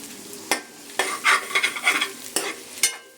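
Eggs with thinly cut capsicum and carrot being stirred in a pan, a spoon scraping and clinking against the metal in a quick irregular series of close, sharp strokes over a soft background hiss, with no talk.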